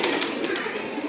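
A single pigeon gives a brief, close, fairly loud coo, a short rolling call heard on its own.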